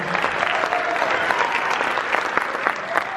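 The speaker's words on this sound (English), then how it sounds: "I also want to give a big round of applause for Mr." An audience at a high school jazz concert claps steadily in a sustained round of applause for the middle school band director, dense and even, filling the hall without a break.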